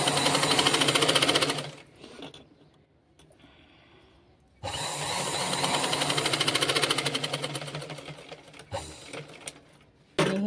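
A sewing machine runs in two loud, steady bursts while stitching a pocket onto a dress, with a quieter pause between them and a brief final burst at the end.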